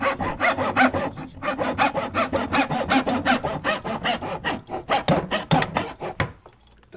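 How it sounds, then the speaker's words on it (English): A metal hacksaw cuts through flooring during a carpet tile and vinyl plank install, with fast, regular back-and-forth rasping strokes, loud and close, that stop near the end. "The saw we're using is actually, just a metal saw? It's just a metal saw for your metal pipe"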